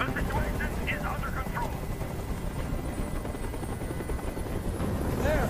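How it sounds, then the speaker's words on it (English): A helicopter hovers overhead in the video game Detroit Become Human, its steady loud rotor drone running throughout beneath voices speaking. "Tell that helicopter to get out of here."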